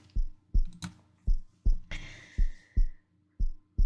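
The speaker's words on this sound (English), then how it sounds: "I fell asleep to the sound of Peter's calm heartbeat" A calm heartbeat sound effect in a visual novel fangame: slow, evenly spaced low thumps, about nine in all, loud and close, with a brief faint hiss partway through.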